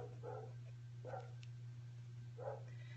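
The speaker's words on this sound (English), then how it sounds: "That's my dog." A dog barks three times, faint and muffled as if from another room or outside, over a steady low electrical hum.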